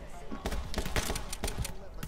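Quick bursts of machine gun fire in the action shooter My Friend Pedro, roughly eight sharp evenly spaced shots within two seconds, close and punchy, with a voice speaking over them.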